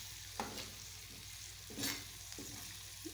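Kaleji (liver) sizzles steadily on a hot tawa while a spatula scrapes and stirs it in a few distinct strokes, close and continuous with no talking.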